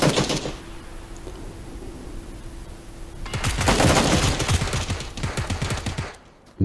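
Rapid bursts of gunfire in the video game PUBG, a rattling automatic volley that swells loud midway and then breaks off, with fainter shots and a low tone before it.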